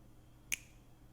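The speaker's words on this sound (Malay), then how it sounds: "Ni petik jari kanan." A single crisp finger snap on the right stereo channel of a home song recording, sharp and close over a faint low hum.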